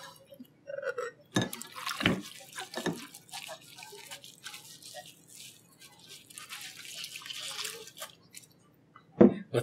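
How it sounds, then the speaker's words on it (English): A pint glass being washed by hand in a sink: intermittent trickles and splashes of running water, a few sharp clinks of glass against the basin, and quiet dripping in between, fairly close and with no talking. "I'm going to give it another quick wash."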